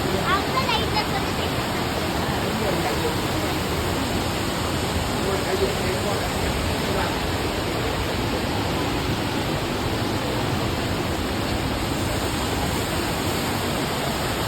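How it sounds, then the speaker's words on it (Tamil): Steady, dense rushing of a small waterfall, a constant broadband roar that holds evenly throughout with no pauses. "ஒரு இடத்துல நீர்வீழ்ச்சி வழிகிற மாதிரி தண்ணி வருது"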